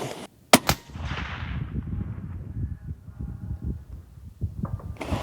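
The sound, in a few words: Best Western rifle shot fired at 1,000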